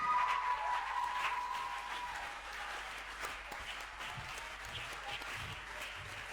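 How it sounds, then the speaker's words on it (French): Church congregation at a Sunday service cheering and applauding for Jesus, steady dense clapping throughout with a whistle or shout over it early on, fading slightly. "Est-ce que tu peux acclamer pour Jésus?"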